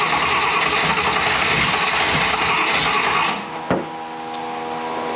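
A 1960 Buick Flattop engine runs rough and steady with its carburetor unadjusted, then cuts out with a sharp clunk near the end, leaving a quieter, lower idle.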